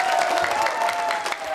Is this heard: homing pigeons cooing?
no